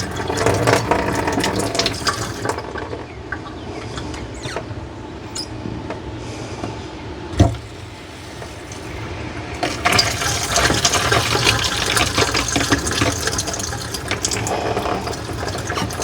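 Water runs from an RV kitchen tap in a steady, close hiss that eases for a few seconds in the middle, broken by a sharp knock, before gushing loudly again.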